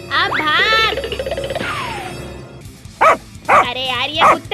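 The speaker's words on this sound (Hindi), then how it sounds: "अरे यार, ये कुत्ते क्यों हमारे पीछे पड़े हैं?" Several dogs bark and yip in a chaotic run of sharp, loud barks, with a whimpering tone and a brief whine. Bursts come close together and mix with voices shouting during a chase.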